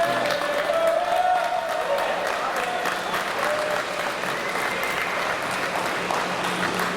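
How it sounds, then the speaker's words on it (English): An audience gives a round of applause after a show, a dense, sustained wash of clapping with a brief voice near the start, steady and fairly loud throughout. "You want to give them a round of applause?"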